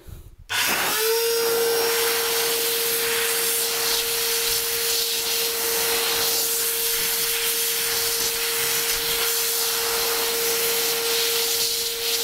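A rebuilt motor from a broken vacuum cleaner starts up after a click and runs steadily, blowing air with a loud continuous whine and rushing hiss at close range.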